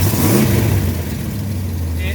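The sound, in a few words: Dodge Ramcharger engine starting and revving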